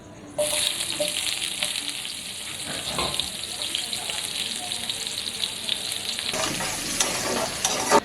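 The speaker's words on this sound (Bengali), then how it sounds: "এবার পেঁয়াজটাকে ভেজে নেব" Onions fry in oil with bay leaf, dried red chillies and cumin, giving a steady, moderate sizzle broken by scraping stirs and clinks of a spatula against the pan.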